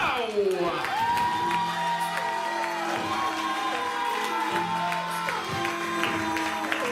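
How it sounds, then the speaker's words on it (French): A stand-up comedy audience applauds and cheers a comedian taking the stage, with whoops and shouts over steady dense clapping, while music plays and a voice talks underneath. "Je lui demande de l'applaudir en stand-up ce soir"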